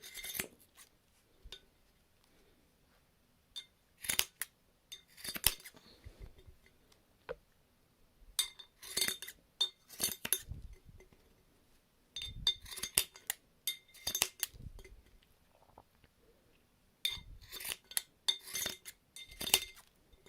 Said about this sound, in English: So what I'm going to do now is cut off the excess cord.